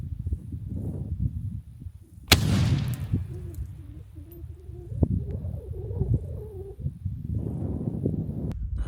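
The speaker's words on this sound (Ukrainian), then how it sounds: "Граната!" An RGD-5 fragmentation hand grenade goes off once in the open in Ukraine, a sharp loud blast with a rumbling tail of debris and echo over wind and low background noise.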